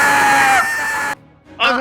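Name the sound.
voice imitating a banshee scream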